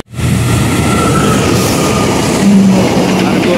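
A KAI passenger train rushes past close by in Indonesia, a loud, sustained roar of wheels and rails with brief high squeals and a horn-like tone near the end.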